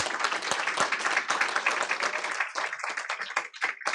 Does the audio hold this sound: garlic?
no